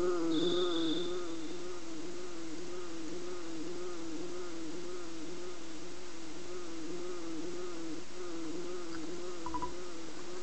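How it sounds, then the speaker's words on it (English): A steady buzzing like a bee in flight, from the video game EarthBound, hums quietly and continuously beneath wavering game music. "do you hear a buzzing, that sounds like a bee flying around?"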